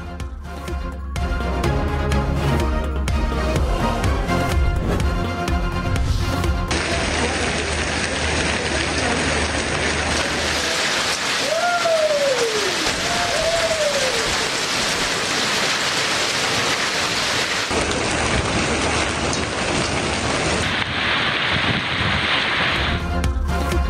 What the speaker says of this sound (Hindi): इस्लामाबाद में तेज बारिश के साथ शदीद जालाबारी।